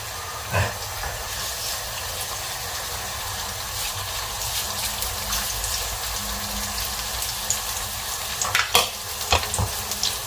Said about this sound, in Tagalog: Gisa-gisa ang bawang, ang sibuyas, bawang, chili.